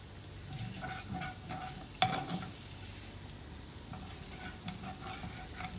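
Food being stirred and sautéed in a pan with a spoon, a faint, steady sizzle under scraping strokes, with one sharper clink of the spoon against the pan partway through.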